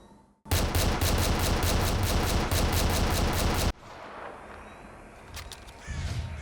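A machine gun in the S.T.A.L.K.E.R. video game fires one loud, rapid, unbroken burst of about three seconds, followed by faint in-game ambience and a few scattered quieter shots.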